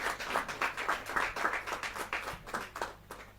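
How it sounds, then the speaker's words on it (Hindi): Audience at a Hindi kavi sammelan poetry gathering claps in a fairly quick, rhythmic pattern, moderately distant and somewhat faint, tapering off near the end. "जोरदार ताली के साथ।"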